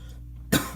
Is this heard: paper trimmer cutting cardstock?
no